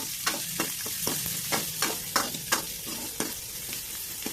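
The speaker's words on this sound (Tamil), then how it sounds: "இப்போ நம்ம சின்ன வெங்காயம் 20 கட் பண்ணி வச்சுருக்கோம், அதையும் சேர்த்துக்கலாம். இது நல்லா கிண்டி விட்டுக்கோங்க." Small onions with cumin sauté in a hot pan, a constant close sizzle broken by regular spatula scrapes and taps roughly every half second as they are stirred, with no voices.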